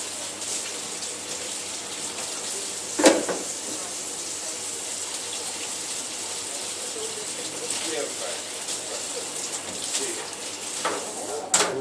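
Steady running water sprays over dishwasher parts as they are rinsed in a kitchen, a continuous hiss with occasional louder splashes and clatters, moderately close.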